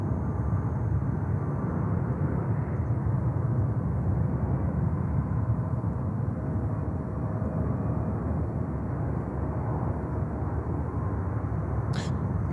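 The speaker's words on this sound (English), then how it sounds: "Heavy Boeing 777, runway 31 right, clear to land" A Boeing 777 landing at JFK airport gives a steady, broad jet roar that holds level throughout, heard from some distance without clear rise or fall.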